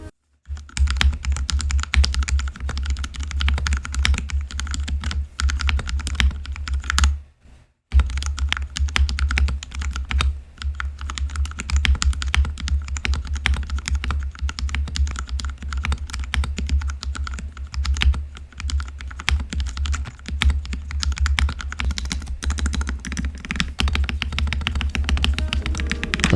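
Steady, rapid typing on a modded Ducky One 2 SF mechanical keyboard fitted with DA-profile keycaps, close and clear, with a brief pause partway through and no talking.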